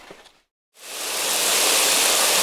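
Water pours steadily from close by over peas being soaked for sprouting, a dense rushing splash that starts after a brief silence and builds to full strength, heard alone.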